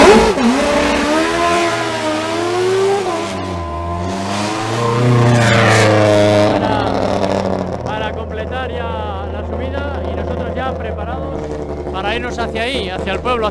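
Race cars run the Bolulla-Tárbena hill climb in Spain in 2021, with loud engines rising and falling in pitch as they rev and pass, heard continuously throughout.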